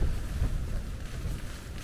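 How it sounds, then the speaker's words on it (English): Strong gusting wind buffets a tent at a wild camping spot, a loud continuous low rumble of wind noise with surges every now and again, no voices. "Wind is giving a bit of a battering every now and again."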